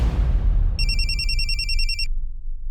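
A telephone bell rings once in a bright, rapid trill that lasts a little over a second, then stops abruptly. A low, rumbling background drone runs underneath it.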